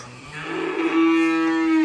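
A cow lets out one long, loud, close moo on a farm, rising into a steady drawn-out tone, with cattle being fed and no talk over it.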